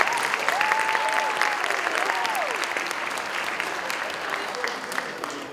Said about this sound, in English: a big round of applause for our coaches.